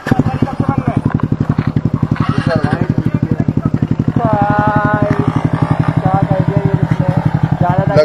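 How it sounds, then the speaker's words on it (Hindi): Mahindra Mojo motorcycle on its stock exhaust idling and revving, a loud, steady throbbing thump with rising revs partway through, up close and continuous. "अभी आपको बताते हैं महिंद्रा मोजो का एग्जॉस्ट, स्टॉक एग्जॉस्ट, ये रही गाड़ी"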